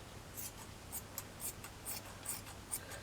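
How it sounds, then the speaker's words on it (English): Scissors snip through velour fabric in a series of faint, crisp cuts spaced about half a second apart. The cuts sit over a quiet, low hum. "It is velour, so scissors don't like velour really."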